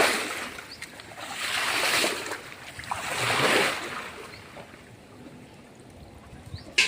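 Cold pond water is stirred by hand, and two swelling swishes and sloshes rise and fade close by before the water settles into a quiet ripple.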